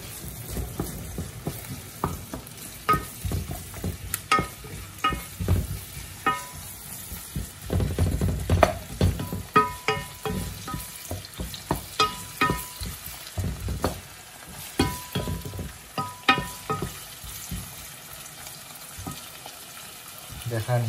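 Five cloves of garlic and onion frying in a pan, with a steady sizzle and repeated scraping and clacking as a utensil stirs them, close up, a voice speaking now and then over the cooking.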